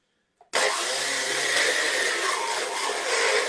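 A Magic Bullet blender starts after a brief click and runs loud and close for about three seconds, a steady high-pitched motor roar with a slight wavering grind.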